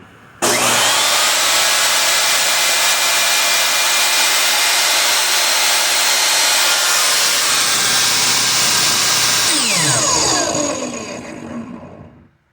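A Skil job site table saw roars at full speed for about ten seconds, loud and close, then winds down as the blade slows to a stop.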